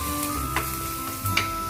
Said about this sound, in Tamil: எண்ணெய் சூடானோன்னு அதில் வெங்காயத்தை சேர்த்துக்கோங்க